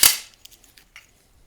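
A 16 gauge nail gun firing a nail into wooden barn door boards gives one sharp, close pop followed by faint clicks and rattles.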